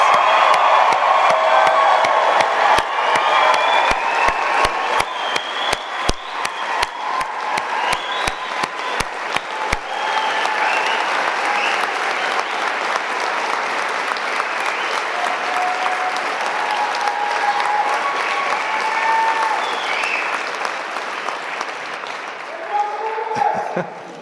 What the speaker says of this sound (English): I invite our faculty, family, and friends to join me with a round of applause